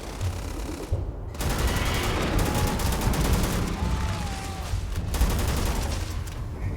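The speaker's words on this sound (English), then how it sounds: "Now I'm doing damage to it. Wonder how much damage this gun does." A gun in Starfield, the space video game, fires in a loud continuous stream of rapid shots at close range, with a short gap near the start.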